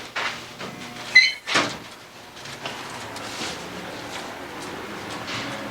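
A door bangs and thuds near the start, followed by a second knock as it swings shut, then a steady low room hum.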